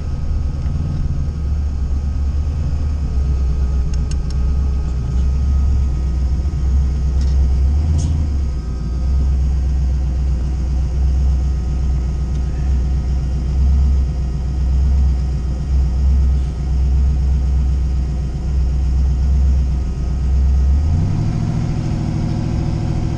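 V8 engine of a Fox-body Mustang with an LS 5.3 swap drones steadily at low revs while driving in low gear, a continuous loud rumble that dips briefly near the end.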